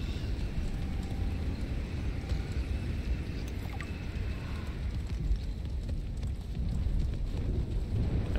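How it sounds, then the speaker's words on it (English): Hail and a thunderstorm in the video game Subnautica Below Zero make a dense, steady low rumble and hiss of pelting hail and rain, with faint rolling thunder, continuous and even throughout, with no talk. "Start hailing already."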